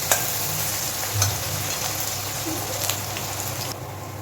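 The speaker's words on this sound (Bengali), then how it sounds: "পেঁয়াজটাকে একটু হালকা স্বচ্ছ হওয়া পর্যন্ত ভেজে নেব" Onion frying in a pan until lightly translucent, for a traditional panch phoron boal fish dish: a steady close sizzle runs throughout with a few scraping stirs of the spoon, no voices.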